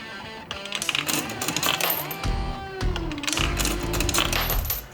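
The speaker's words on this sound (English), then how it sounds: "Let's put a coin in." A coin drops into a pinball simulator machine with a brief clink, followed by electronic chimes and mechanical whirring, close and clear.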